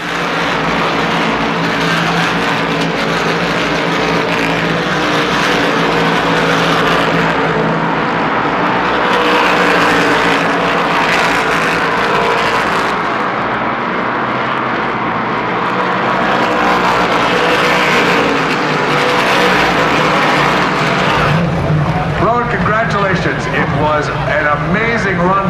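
Whelen Modified Tour race cars circle the track at Thompson, a loud, continuous roar of engines that swells and fades as cars pass, with a commentator talking over it throughout.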